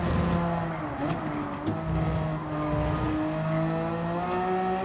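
Race car engine roaring continuously in Gran Turismo 7 daily race, loud and close with rising and falling revs through gear shifts, alone with no talk.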